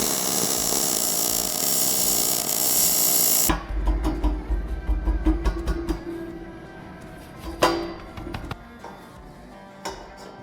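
Crackling, buzzing MIG arc welds steel cross pieces onto steel tubing, loud and continuous for a few seconds, then giving way to short sputtering bursts, taps and clanks up close.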